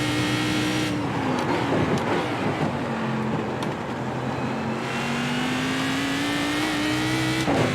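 A Cadillac CTS-V race car in the iRacing game at Bathurst drones with a steady, loud engine note that rises and dips in pitch as it changes gear, continuous and close with no talk.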